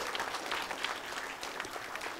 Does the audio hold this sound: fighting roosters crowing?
no